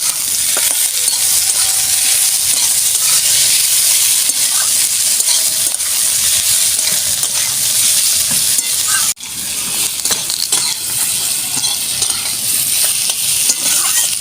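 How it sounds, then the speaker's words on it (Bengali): Shiuli (night jasmine) leaves frying in a pan, a steady loud sizzle with stirring scrapes running throughout, briefly dipping near the middle before continuing. "শিউলি পাতাটা দিয়ে আমি ভালো করে ভেজে নিয়েছি"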